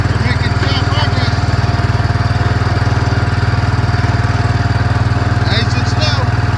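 Small tractor engine hauling a wagon up a hill out of a hollow in a forest, a loud, steady close chugging drone with a fast regular pulse that holds throughout, with no break.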